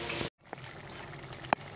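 Spices fry in a pan for a curry, giving a close, crackling sizzle that cuts out briefly and returns softer, with a couple of sharp clinks of stirring.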